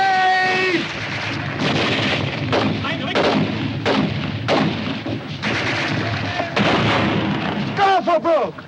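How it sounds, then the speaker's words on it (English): Grenade blast and gunfire in a 1951 war film battle scene, a series of heavy booms and sharp shots over a steady roar, ending in a burst of whistling sounds. "Grenade!"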